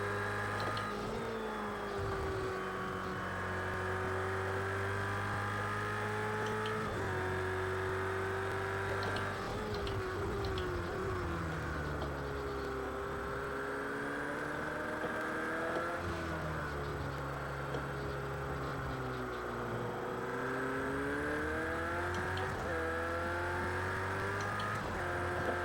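Ferrari 488 GT3 race car in Project Cars 2 at Silverstone, its engine loud and continuous, revs climbing through gears with repeated shifts and dips for corners, no talk.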